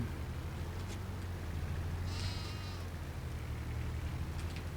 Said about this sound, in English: I do love the sound of the little sheep.